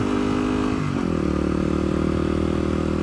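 A Yamaha WR250X motorcycle runs steadily, its engine a continuous close drone that shifts pitch about a second in, as if changing speed, with no talk.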